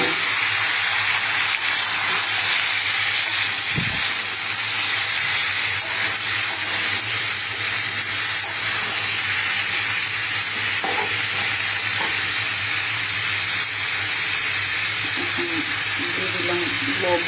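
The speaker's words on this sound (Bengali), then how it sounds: "এখন দিয়ে দিব সবজিগুলো।" Vegetables frying in oil in a pan for a vegetarian chhana curry, a loud continuous sizzle close by with stirring scrapes and clatter running throughout.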